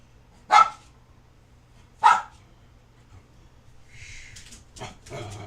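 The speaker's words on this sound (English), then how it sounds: "Sorry about the dog." A dog barks twice, sharp and close, about a second and a half apart. Faint shuffling and clattering noises follow.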